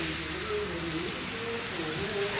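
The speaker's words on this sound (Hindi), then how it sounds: "और अभी बारिश अभी भी गिर रहा है" Steady rain falls beside a roadside dhaba on a main highway in India, a dense even hiss of drops with no break, fairly loud and close, with faint low rumble beneath.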